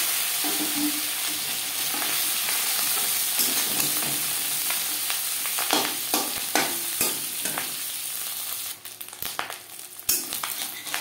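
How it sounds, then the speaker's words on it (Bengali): Fish roe sputters and crackles in hot refined oil, a dense continuous sizzle with scattered pops and occasional scrapes of a utensil stirring, close and steady throughout. "2 চামচ রিফাইন্ড অয়েল গরম করে নিয়েছি। এবার দিয়ে দেবো মাছের ডিম।"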